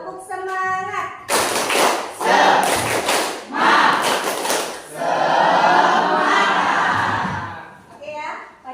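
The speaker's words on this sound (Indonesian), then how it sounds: "Kalau semangat, kita tepuk semangat dulu, ya." A classroom of students performs a rhythmic Indonesian 'tepuk semangat' spirit clap, with bursts of group clapping and chanting voices in a patterned sequence, and a teacher's voice briefly at the start and end.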